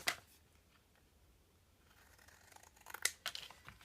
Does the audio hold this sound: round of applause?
no